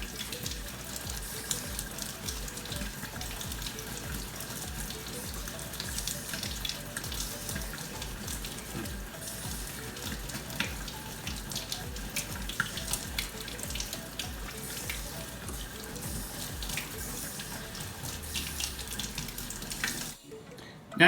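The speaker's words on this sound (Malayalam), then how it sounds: "ഇതുപോലെ നമുക്കൊന്ന് സ്ക്രബ്ബർ വെച്ചിട്ടൊന്ന് ഉരച്ച് കഴുകാം." Potatoes being scrubbed with a new scrubber under a running kitchen tap, a steady close rush of water with faint scraping and splashing throughout, ending abruptly.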